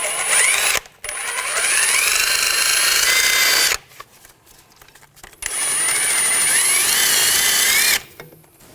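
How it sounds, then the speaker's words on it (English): A wire brush scrubs rust from a sway bar link nut on a 2000-2006 BMW X5 front suspension, sounding as two long, loud, harsh bursts separated by a quieter gap, then a sudden stop. "I'm just going to use a wire brush. Just try to clean it up a little bit."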